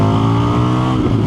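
An Indian FTR 1200 motorcycle pulls hard under full throttle from 40 to 80, its engine roaring loud and close with a steady rising drone and no voices.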